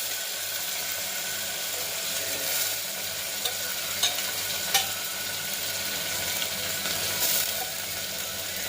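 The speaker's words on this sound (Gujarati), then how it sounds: "તે બાદ આપણે ઓલું બટેટા અને ડુંગળી જ્યારે કાપી હતી એ નાખશું।" Chopped potatoes and onions frying and sizzling in a pan for khichdi, a steady hiss with occasional stirring clinks, close and continuous with no talking.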